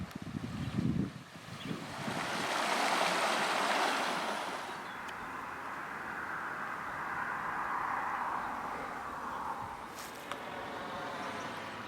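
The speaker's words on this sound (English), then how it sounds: "Delightful little stream here." A small stream in the Creuse countryside of France, with a broad, steady rushing wash of flowing water that swells and eases, mixed with some wind buffeting on the microphone.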